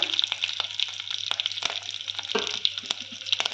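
Curry leaves and a green chili sizzle in hot oil, giving a steady close-up crackle with sharp pops scattered throughout the short burst.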